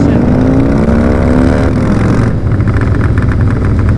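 Harley-Davidson Dyna Low Rider motorcycle on the move, a loud steady engine drone with a rising whine that drops as the gear shifts, heavy wind rumble throughout, and a rider's voice mixed in.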